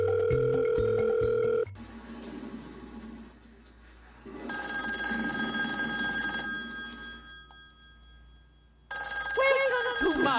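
A game room telephone bell rings in bursts separated by pauses, the metallic ringing loud and near, with a voice briefly audible at the start.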